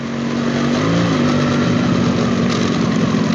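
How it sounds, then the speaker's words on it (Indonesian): A motorcycle on the move carries a knocking rattle through its engine drone, a steady close mechanical hum with rapid clattering beats running under it and no speech. "Ada bunyi kletok."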